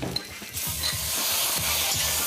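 Marinated prawns sizzling with onions in a hot pan, a loud continuous hiss broken by scraping stirs at a steady rhythm, close up and without talk.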